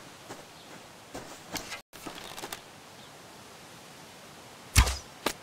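Bow shot in the survival game Subsistence, a sharp loud twang and whoosh near the end over quiet outdoor ambience with soft footsteps and rustles earlier.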